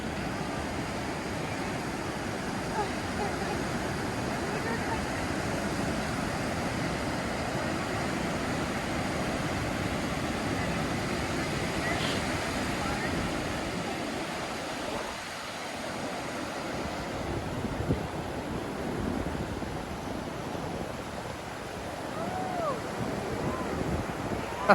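Ocean surf on an East Coast beach rolls and washes continuously, a broad steady roar mixed with gusts of wind buffeting the microphone, heard close and fairly loud without any speech.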